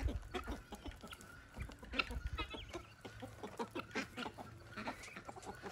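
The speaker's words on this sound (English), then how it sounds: "That's Cogborn rooster, or rooster Cogborn." Several chickens cluck continuously at close range, a busy chorus of short clucks and squawks with a rooster among them.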